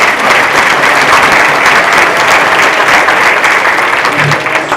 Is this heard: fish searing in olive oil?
no